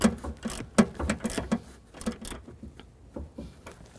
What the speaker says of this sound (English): if you can get a torque wrench in there with a 14mm socket, you can tighten that nut to 15 foot-pounds